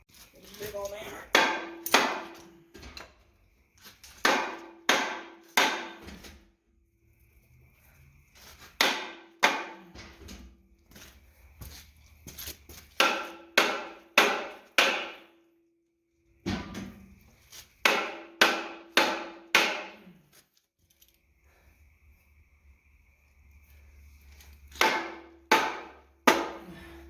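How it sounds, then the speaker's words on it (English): Big hammer pounding on Isuzu 3AB1 three-cylinder diesel skid steer engine parts during a teardown, in repeated bursts of three to five sharp metallic blows separated by pauses, close and loud, with occasional faint talk between strikes. "Big old hammer."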